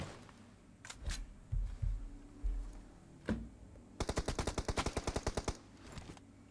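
Gunfire in the PUBG Mobile video game: a few scattered single shots, then a rapid automatic burst of about a dozen rounds, fairly close and crisp with no talking over it.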